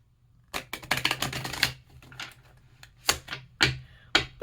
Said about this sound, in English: I'm shuffling our cards right now